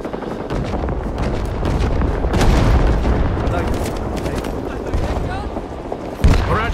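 An artillery barrage pounds down in the Vietnam War shooter Rising Storm 2: Vietnam, with dense booming explosions and crackling gunfire layered into a loud, unbroken wall of battle noise and a sharp blast near the end.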